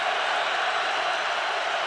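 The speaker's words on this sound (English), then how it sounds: "Crowd rising" Football stadium crowd at an NFL game, Minnesota at Philadelphia, 2004, a steady broad roar from thousands of fans building throughout, loud and continuous with no clear voice on top.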